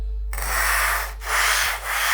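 A stone plate in a printmaking workshop is ground with silicon carbide (carborundum) abrasive powder, making loud, close, gritty scraping in long back-and-forth strokes, roughly three passes with brief dips between them, with no talking.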